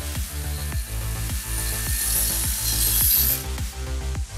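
The gears of a Mini 4WD on an SFM carbon chassis whir with a steady mechanical hum, broken by repeated clicking ticks at a regular pace, close up and fairly loud.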